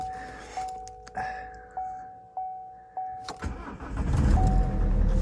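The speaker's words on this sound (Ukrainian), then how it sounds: "Присядемо автомобіль, запустимо його, як він запуститься, цікаво, зараз мороз." A 2014 Opel Insignia 2.0 diesel in frost: several dashboard chimes and clicks, then the engine cranks and catches, settling into a close, steady diesel idle.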